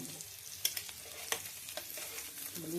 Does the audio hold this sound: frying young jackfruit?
yes